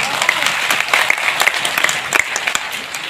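Loud, lively applause from an audience at a program in Jaipur, dense clapping with sharp individual claps standing out over the crowd.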